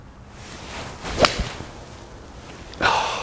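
A players' iron swing striking a golf ball on the range, heard as a sharp swish then a single crisp impact near the middle, with a further brief swishing sound near the end, quiet background otherwise.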